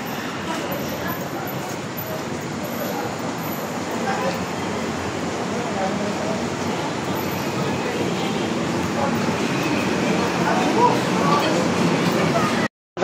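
Steady low rumble of an MRT train in Manila running throughout, with faint clatter and scattered background voices, ending abruptly.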